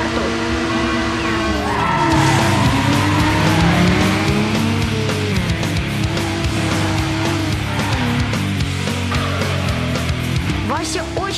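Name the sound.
old race cars starting and skidding in animated film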